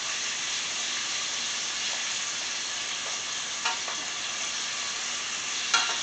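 Pork ribs sizzling steadily in a frying pan, a constant crackling hiss with a couple of brief scraping knocks as pieces are turned over, close and fairly loud.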